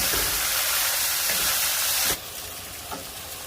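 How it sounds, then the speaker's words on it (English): Tomatoes and onions sauté in a pan with a loud broadband hiss that drops abruptly to a quieter, steady sizzle partway through. "keep on going until everything is browned and sauteed"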